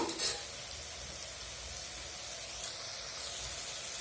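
Brinjal (eggplant) pieces fry in a pan for an Andhra-style curry, making a steady broadband hiss and sizzle. A brief clink comes right at the start, with no voices.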